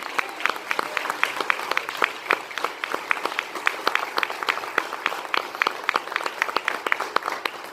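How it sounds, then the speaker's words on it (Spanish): Congregation applauding during a church sermon, a sparse crowd clapping with distinct individual hand claps, fairly close, in an uneven, ongoing rhythm. "Dale el aplauso al Señor."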